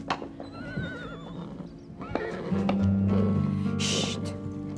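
A horse neighs and whinnies in a stable, a rising, wavering call heard close and clear, with hoof clip-clops, a snort and other stable noises around it, in a French horse-riding drama.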